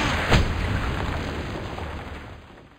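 A cannon in the video game Palworld launches a pal with a single sharp explosive boom, then a long rumbling tail that slowly fades away.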